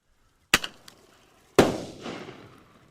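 Two sharp bird-banger firecracker reports from a two-barrel 15 mm cap gun, the first a close crack with a quick echo, the second about a second later bursting in midair with a long decaying rumble.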